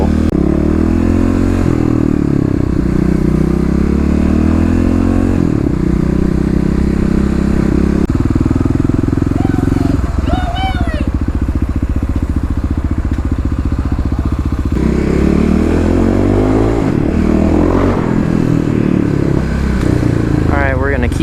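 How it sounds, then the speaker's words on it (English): An EFI Kawasaki KLX351 dual-sport motorcycle engine drones loudly and continuously up close while riding, its pitch rising and falling with throttle changes, with occasional clatter. "Security probably didn't like the noises that my motorcycle was making."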